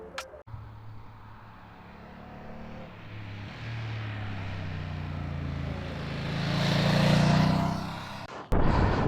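A Ducati Multistrada V2 motorcycle being ridden, its engine droning steadily and swelling louder toward the end, with rushing wind noise throughout and no talk.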